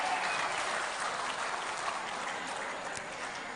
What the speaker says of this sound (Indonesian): Boleh tepuk tangan untuk kita semuanya?